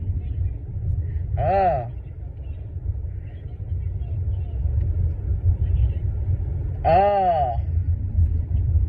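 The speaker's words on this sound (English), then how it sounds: "It sounds like you're driving somewhere." A car driving on the road gives a steady low rumble throughout, heard from inside the cabin, with two brief spoken exclamations rising over the engine noise.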